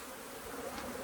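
Honey bees hum around an inspected hive, a steady close buzz with no voices over it.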